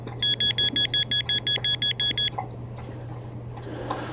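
A Nokta Legend metal detector gives a fast run of about eleven evenly spaced electronic beeps, then falls quiet over a steady low hum and faint outdoor noise.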